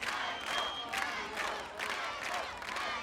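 Pro-gladiator crowd at an American Gladiators Powerball event, cheering and shouting in a steady, loud roar with rising surges, a dense arena noise throughout.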